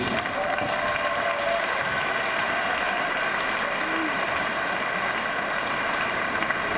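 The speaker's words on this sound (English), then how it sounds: "Applause for you all, please." Sustained, dense applause from the arena crowd at a 2019 European Championship women's wheelchair basketball final for places one and two involving the Netherlands, rolling steadily and evenly with no break.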